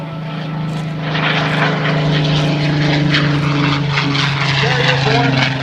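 A propeller airplane climbs out after takeoff at the 2013 Hamilton air show, its engine droning loud and steady with a strong low hum, while an announcer talks over it.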